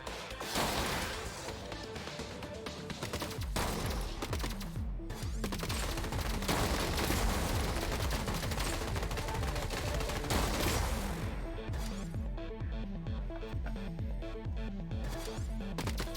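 Robots in the video game Gladiabots trade rapid machine-gun bursts and heavier shotgun blasts, a dense continuous barrage of cracks and thuds that thins out near the end.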